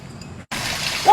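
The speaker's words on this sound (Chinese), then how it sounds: "咱们今天炸一个据说世界上最大的蝎子——雨林蝎" Rainforest scorpion dropped into boiling oil for deep-frying: after a brief gap, a loud, steady hissing sizzle sets in and holds, over faint background sound before it starts.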